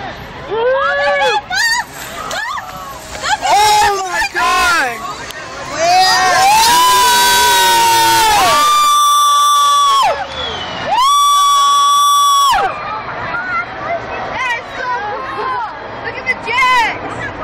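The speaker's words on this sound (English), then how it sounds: "People are cheering." A large outdoor crowd at Disneyland cheers and shouts as the space shuttle passes overhead, with excited voices, whoops and sustained yelling rising and falling, including several loud swells of prolonged cheering, all close and loud.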